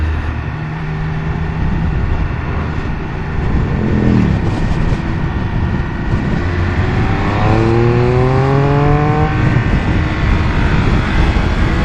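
A motorcycle passing by on the road, its engine rising and falling in pitch as it approaches and goes past, heard over the loud, steady wind and engine rumble of the rider's own bike.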